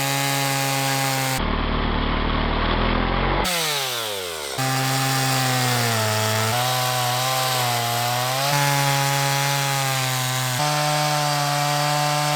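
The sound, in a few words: chainsaw cutting up fallen tree wood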